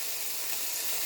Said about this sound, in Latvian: Panna samērā karsta, es nogriežu uguni biku un tagad gulaša klucīša.